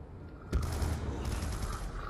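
Gunfire in the Call of Duty Nuketown Zombies video game, a loud burst of shots over a dense rumbling game background, brief and close.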